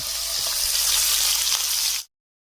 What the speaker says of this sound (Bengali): এই দেখো মাছটা ভাজা হচ্ছে